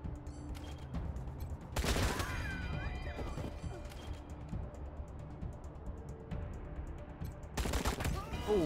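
Gunfire and impact crashes in the Wasteland 3 video game, with sharp loud bursts at the start and end over a dense, busy game soundscape and a faint voice.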